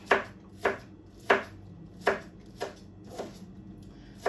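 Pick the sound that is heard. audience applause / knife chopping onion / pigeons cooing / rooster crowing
knife chopping onion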